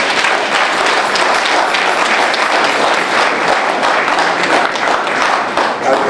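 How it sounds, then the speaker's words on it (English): Sustained, loud applause from a symposium audience honoring Dr. Chambers, a dense wash of many hands clapping steadily with no pauses. "Dr. Chambers deserves another round of applause."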